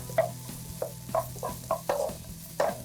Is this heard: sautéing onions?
yes